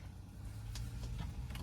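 Power seat motor in a 2014 BMW 520d whirring as the seat slides back, a low steady hum lasting under two seconds inside the quiet cabin, with faint clicks along the way.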